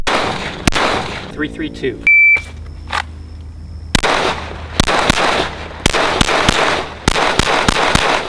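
Gunshots from a Radian Ramjet rifle fired on an outdoor shooting range: a string of loud, sharp cracks spaced irregularly, several in quick succession toward the end, with a person talking and a brief electronic beep in between.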